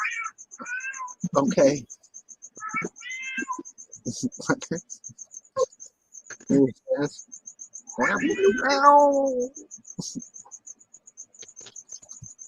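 A cat meows loudly several times, long drawn-out cries mixed with people talking, while crickets chirp steadily in the background.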